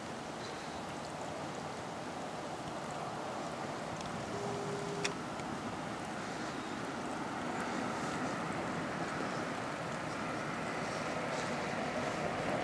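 Honda CR-V driving through a creek, a broad continuous wash of splashing and rushing water with engine rumble and wind buffeting on the microphone, steady and fairly distant for over twelve seconds.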